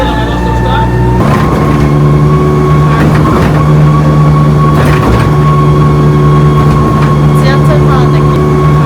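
Inside a small city bus riding through Rome, a loud continuous engine drone and rattling hum with occasional bumps and clatters, steady from start to finish.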